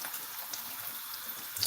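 A little water trickles from a tap for adding to a sauce while cooking at home, a soft brief splashing stream heard faintly and alone for under two seconds.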